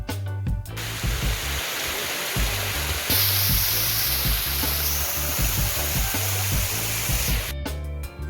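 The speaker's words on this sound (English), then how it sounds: "combined with the pouring rain that had just started, the sound of the rushing water was also spectacular" Dense, steady rushing water roars throughout, a broad hiss like a waterfall mixed with heavy rain, with brief low thumps at the edges.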